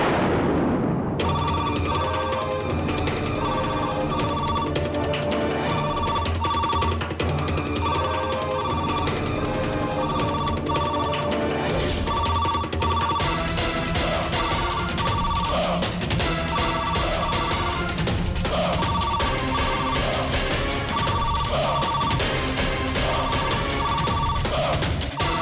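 A household telephone rings repeatedly over a loud, dramatic music score in a Tamil TV serial, the bell tones recurring steadily throughout.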